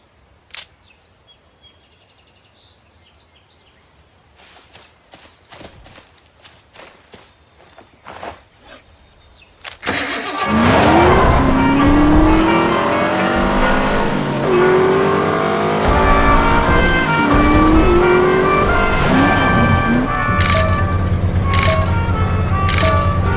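Race cars at the start line of a dirt country race in The Saboteur video game: faint clicks and taps at first, then engines burst in loudly, revving with rising and falling pitch sweeps and a sustained roar.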